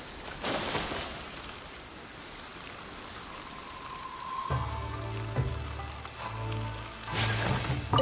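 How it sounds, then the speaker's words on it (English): Steady rain patters throughout a video game scene, with a low rumbling drone and brief chimes layered over it partway through. "Let us find shelter from the rain."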